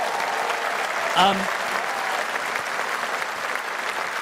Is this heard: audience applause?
yes